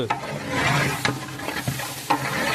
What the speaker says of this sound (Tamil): இஞ்சி பூண்டு கிண்டிட்டு இருக்காங்க